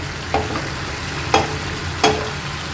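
Spices frying in a pan for a vegetable curry with raw turmeric, a low continuous sizzle broken by three sharp stirring scrapes spaced about a second apart.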